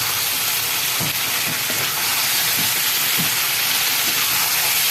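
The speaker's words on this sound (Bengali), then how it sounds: "এই গোটা রসুন আমি এখানে ছেড়ে দেবো।" Whole garlic cloves dropped into a pan of chicken, steady hissing sizzle throughout with a few soft plops and crackles, close and continuous.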